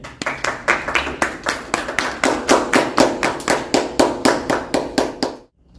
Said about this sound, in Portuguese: Uma salva de palmas pro Bate